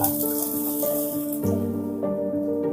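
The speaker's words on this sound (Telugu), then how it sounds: "ఆయిల్ కొంచెం హీట్ అయిన తర్వాత మనం ఆల్రెడీ కట్ చేసి పెట్టుకున్న సొరకాయ ముక్కలన్నీ కూడా ఇందులో వేసుకోవాలి" Bottle gourd pieces dropped into hot oil in a pan for a Telugu-style chutney, giving a steady close sizzle with soft wet crackles and bursts as the pieces land, under background music.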